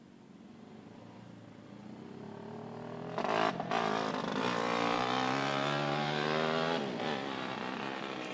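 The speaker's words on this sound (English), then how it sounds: "See some of the cars starting to push out onto the racetrack now." Race cars of a 120 5 and 4 stroke division roll out onto the Clyde Martin Memorial Speedway track before a consolation race, a low engine drone rising into louder, steady revving from several machines at moderate distance.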